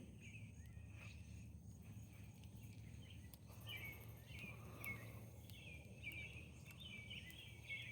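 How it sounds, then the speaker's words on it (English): American robins sing by a lake at sunset, bright chirping phrases repeating every second or so over a steady low rumble of outdoor background noise, moderately distant and fairly faint. "Those noisy birds are robins."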